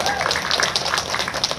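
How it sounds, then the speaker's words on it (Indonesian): A crowd at Kebayoran Lama market claps in a steady, dense patter that fills the short moment, moderately loud, with voices mixed in. "Terima kasih, tepuk tangan untuk kita."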